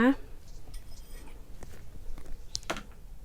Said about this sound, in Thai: ตวงผงโกโก้นะคะ 1 ช้อนโต๊ะค่ะ